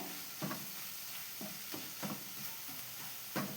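Papaya masala curry being stirred in a pan: several soft spoon scrapes and clinks at uneven intervals over a faint steady sizzle, close and quiet with no talk.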